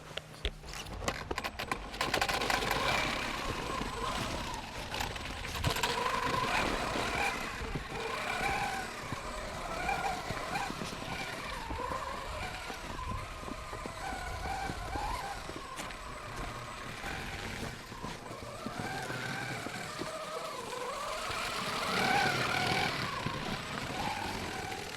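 A Hobao RC car fitted with 3D printed paddle tires runs continuously, its motor droning and surging up and down for about twenty-five seconds at moderate, fairly close loudness.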